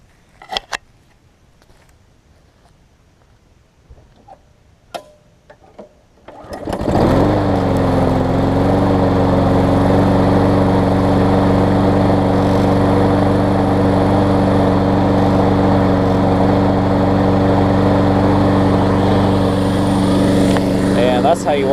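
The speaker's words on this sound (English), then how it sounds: "So we're going to crank this up and run it" A lawn mower's small engine cranks and starts after quiet handling noises, then runs steadily at a loud, even idle to burn the gas out of the carburetor for winter storage.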